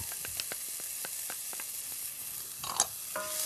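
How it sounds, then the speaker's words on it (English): Shallots and minced garlic sizzling in pork drippings in a pan, a quiet steady frying hiss with light clicks and a brief louder scrape near the end. "I'm adding my shallots, and I'm adding my minced garlic."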